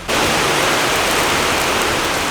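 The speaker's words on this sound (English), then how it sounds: "So we're getting rained out again" Steady, dense hiss of rain falling without a break, loud and close, with no voices over it.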